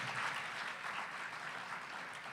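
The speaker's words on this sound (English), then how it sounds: "Give yourselves a big round of applause." Faint, distant applause at a charity gala for a brain foundation, a soft continuous wash of clapping with no voices over it.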